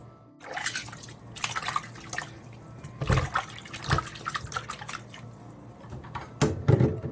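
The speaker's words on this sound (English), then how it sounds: "We're gonna rinse the beef." Running water splashes and trickles as beef is rinsed for red peas soup, with uneven bursts of louder splashing and dripping close by.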